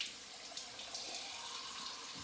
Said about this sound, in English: Rinsing the alum off.